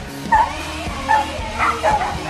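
Large dogs in a rescue kennel for the biggest dogs, giving loud, close, repeated barks and yips in an irregular run of about five bursts.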